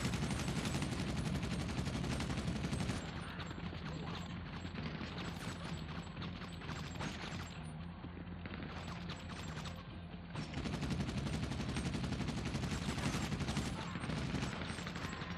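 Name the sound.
gunfire in GTA V Online video game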